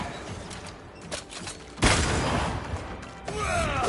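A corpse enemy opens fire in The Banishers: a faint, rattling backdrop gives way to one loud, close gunshot blast. Its harsh tail lingers, then brief clattering and metallic sounds follow.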